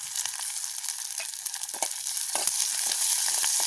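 Onions, dried chilies and curry leaves sizzle in hot oil while being stirred. The crackle is bright and close, broken by spattering pops and spoon scrapes.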